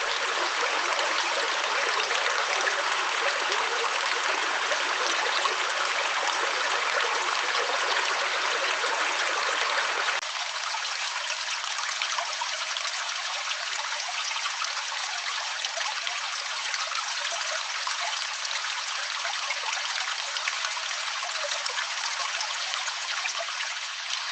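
Mountain rivers and springs flow in Rila National Park, a steady, continuous rush of water heard up close with no voices, its low body dropping away partway through while the bright hiss carries on.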